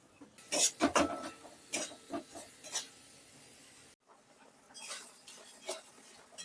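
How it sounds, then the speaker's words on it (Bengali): A spoon scrapes and clinks as a spice mix is stirred and sautéed in a pan over a medium gas flame for chana masala, with irregular close rubbing strokes, fairly quiet, and a brief pause midway. "মশলাগুলোকে আমি ভালোভাবে মিশিয়ে নিচ্ছি গ্যাসের ফ্লেমটা মিডিয়ামে রেখে এটা তিন থেকে চার মিনিট ভালোভাবে কষিয়ে নিতে হবে"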